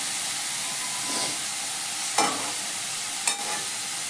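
Radish leaf bhaji cooks in a pan over a low gas flame, giving a soft, steady close sizzle and hiss. Two brief scraping stirs of a spoon cut through it, and no one speaks.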